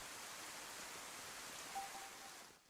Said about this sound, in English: I thought I turned rain off